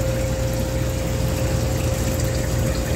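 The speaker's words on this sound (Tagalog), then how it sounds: "Nagre-refill naman siya ng tubig." An ice machine's pump runs while the machine refills with water, a constant loud, dense whir and rushing flow with a steady hum, unchanging and with no talking.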